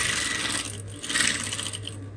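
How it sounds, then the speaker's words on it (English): Sewing machine hemming a fabric sleeve, a close, continuous mechanical whir with a steady low hum. "So you carefully hem it just like I am doing."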